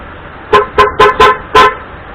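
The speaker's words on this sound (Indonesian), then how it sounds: "klakson keong" A custom OJMX motorbike fitted with a snail horn (klakson keong) sounds five short, loud, bright honks in quick succession, close and alone with no talk.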